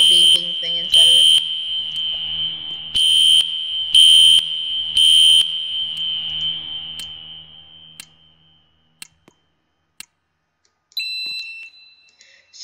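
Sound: fire alarm sounding in video game

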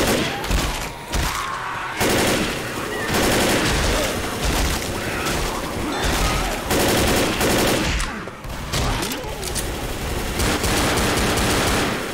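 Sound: gunfire in video game Left 4 Dead

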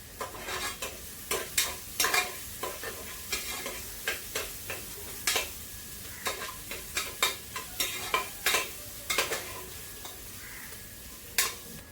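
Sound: onion frying and stirring in pan

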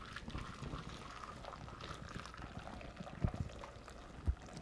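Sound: soy milk poured through a fine mesh strainer

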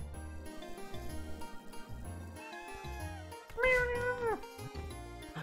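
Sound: cat meowing in a Celeste mod video game

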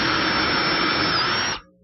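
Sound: screws being driven into wooden hutch shelves

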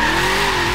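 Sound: car drifting in the video game Forza Horizon 3

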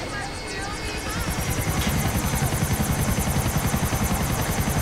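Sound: helicopter flying in GTA IV video game

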